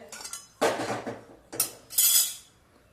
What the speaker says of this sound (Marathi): चला तर मग सुरुवात करूयात गॅस चालू करून त्यावरती कढई ठेवूयात